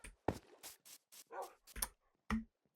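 Dogs in the Minecraft video game give short, clipped synthetic barks and yips in scattered bursts with quiet gaps between them, fairly close and alone.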